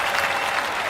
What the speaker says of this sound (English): The crowd really appreciating that serve.